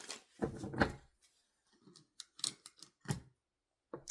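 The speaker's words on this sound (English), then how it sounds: "Let's go ahead and shuffle these cards back in." Tarot cards shuffled by hand in close, quiet bursts of riffling and soft slaps, irregular and brief with pauses between.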